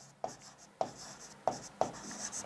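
Marker or chalk strokes on a board during a trigonometry lesson, four short scratchy writing strokes in an even rhythm, close and fairly quiet, with no talking.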